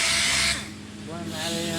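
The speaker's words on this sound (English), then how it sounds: "orbital sander." An orbital sander runs up close with a buzzing whir that dips briefly and then rises again, all within a couple of seconds.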